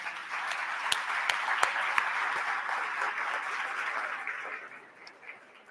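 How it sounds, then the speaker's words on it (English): An audience round of applause at an Art in the Air gathering, steady crowd clapping with a few sharp nearby claps early on, moderately loud and tapering off toward the end. "Let's have a round of applause."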